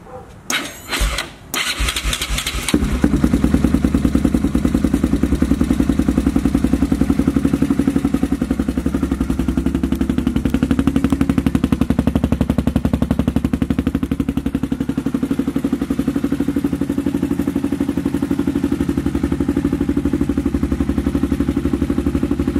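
A Yamaha Raptor 660 ATV fitted with an aftermarket FMF exhaust cranks over with a few short bursts, then fires and settles into a loud, steady, close idle that runs uninterrupted to the end.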